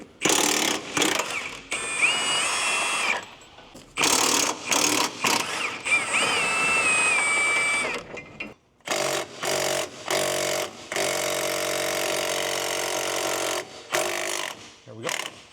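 A ratchet works loose 17 mm bolts on an Acura NSX being stripped for a twin-turbo swap, producing bursts of quick close clicking separated by short pauses, with metallic clanks and brief gaps between runs.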